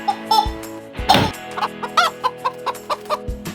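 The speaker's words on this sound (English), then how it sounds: "Chicken." A chicken clucks in a quick run of short, evenly spaced clucks with a louder squawk near the start, close and clear over a faint musical bed.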